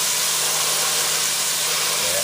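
Flattened burgers steam and simmer in a hot pan, a steady, dense broadband hiss and sizzle that holds evenly throughout with no pauses or talking.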